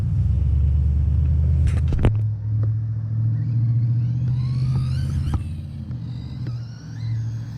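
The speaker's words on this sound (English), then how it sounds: "Here's a car." A car passes close by on the road with a rising and fading rumble, heard over the steady drone of a nearby engine.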